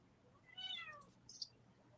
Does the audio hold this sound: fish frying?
no